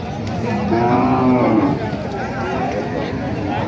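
A local cow at a busy Panchbibi cattle market gives one loud, drawn-out moo close by, amid the constant chatter of a crowded market.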